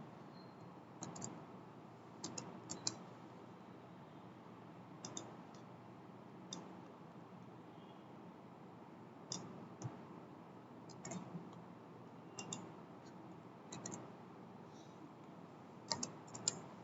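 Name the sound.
typing on a computer keyboard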